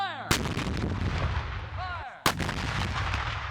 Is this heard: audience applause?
no